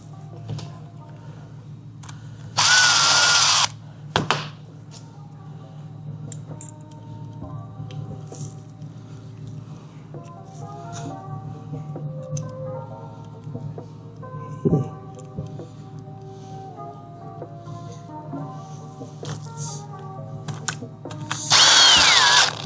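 Power tool driving bolts into a transmission solenoid bracket on a 2019+ Cummins 68RFE: two loud whirring bursts near the start and end, a few sharp clicks between, over a low steady hum.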